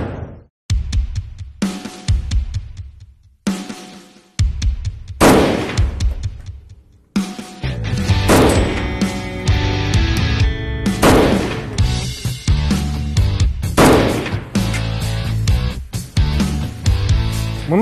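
An AK-103 Kalashnikov rifle fires loud, sharp shots, first in separate single bursts with pauses, then in dense, sustained rapid fire that continues to the end.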